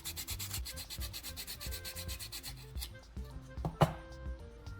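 Car battery terminals are sanded to remove oxidation with quick, rhythmic back-and-forth rubbing strokes, close and fairly quiet, ending with a slight knock.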